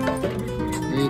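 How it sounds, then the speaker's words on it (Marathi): A dog barks and yips a few times in quick succession at close range, sounding excited. "कुत्रा आहे तो"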